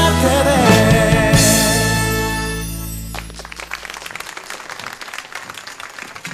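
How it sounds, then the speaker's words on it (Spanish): A ballet performance on a home-made TV show ends as its music fades out, and a dense, steady burst of audience applause and clapping takes over, filling the rest of the clip. "Aplausos, aplausos para nuestro precioso ballet"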